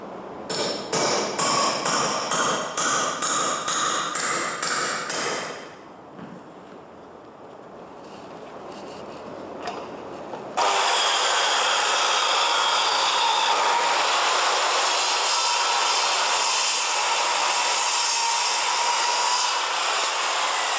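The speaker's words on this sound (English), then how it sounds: "I will cut through this piece of timber with 2 wire nails hammered into it" Construction saw blade cutting through a piece of timber with two wire nails hammered into it, a loud buzzing rip in pulsing bursts, a quieter pause, then a long continuous harsh cut, close and without talk.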